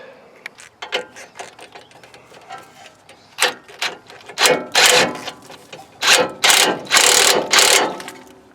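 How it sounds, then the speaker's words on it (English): Ratchet wrench tightening a ball joint nut on a Nissan Titan's replacement control arm, with bursts of rapid clicking that grow louder and longer toward the end, close up and with no talk. "And then we can tighten our ball joint nut."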